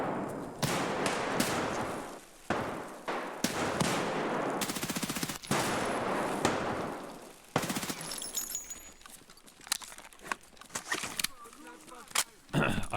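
Rapid bursts of automatic gunfire from a first-person shooter firefight in SPT (Escape from Tarkov offline), loud near shots and volleys in clusters with pauses, sparser cracks toward the end.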